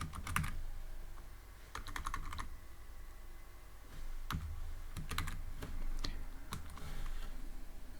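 Python code being typed on a computer keyboard: several short bursts of quick, close key clicks separated by brief pauses, with no talking.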